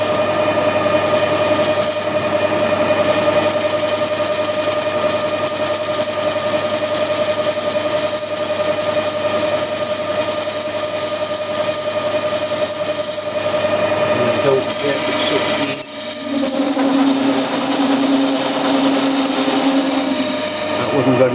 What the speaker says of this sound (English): Going to speed up the gear for the last fine cut.